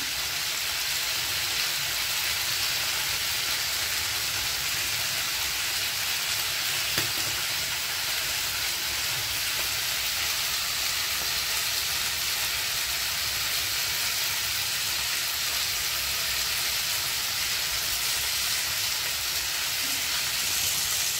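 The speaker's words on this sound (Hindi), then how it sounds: "सर्व चिकन पलटी करून घ्यायचे आहे. चिकन छान फ्राय झाले आहे, तुम्ही बघू शकता." Chicken pieces for restaurant-style butter chicken fry in a pan after their water has cooked off, producing a loud, continuous, even sizzle for a long stretch, with only a faint scrape as pieces are turned.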